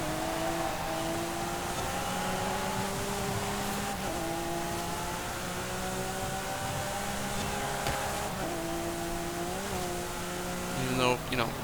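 An Italian hypercar in the Forza Horizon 5 racing game, its engine droning steadily at high pitch, climbing through gears with brief dips at each shift, ending in a short burst of rising revs.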